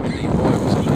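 Strong wind buffets and roars loudly in a brief, continuous gust at an open aircraft door before a skydive over Kangaroo Island.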